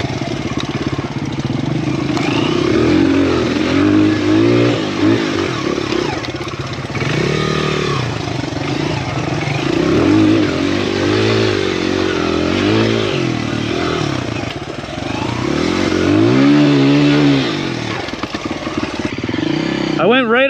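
A Honda XR100R dirt bike runs through an enduro trail ride, its small engine revving and labouring up and down close by for the whole stretch. Speech is heard over the engine throughout.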